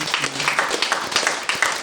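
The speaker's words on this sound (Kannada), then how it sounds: "ಜೋರಾಗಿ ಚಪ್ಪಾಳೆ" A small group claps loudly in a therapy setting, with quick uneven bursts of hand claps filling the short moment while a few faint voices sound underneath.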